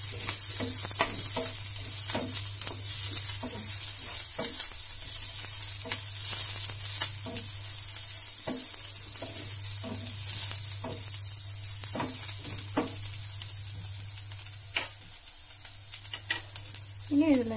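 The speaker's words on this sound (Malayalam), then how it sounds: "നമ്മൾ പച്ചമുളകും കൂടി ഉള്ളിയിലേക്ക് ഇട്ടും. അതും ഒന്ന് വഴറ്റി കൊടുക്കാം." Green chili and onion sauté in a pan for a brinjal stir fry, giving a steady sizzle broken by repeated scraping and stirring strokes, with a constant low hum underneath.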